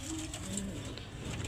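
Pigeons of a donated young-bird breeding stock coo softly in a loft, with faint low murmuring calls over a quiet background hum.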